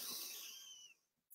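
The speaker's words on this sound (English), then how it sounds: "take a nice deep breath through your nose. And then just blow out through your mouth." One breath is blown out through the mouth during a breathing exercise, a close, airy hiss that starts strong and fades away over about a second, with no talking.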